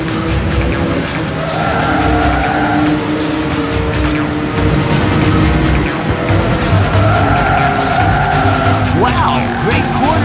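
Race cars in the video game Ridge Racer V roar through a Grand Prix start, with dense continuous engine drone and tire squeals layered throughout, loud and steady with no pauses.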